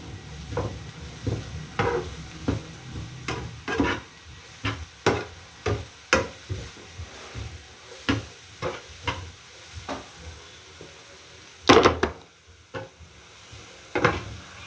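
Chicken fried rice being stirred and tossed in a hot pan: a run of rhythmic scraping strokes, roughly one every half second, over a soft sizzle, close and fairly loud.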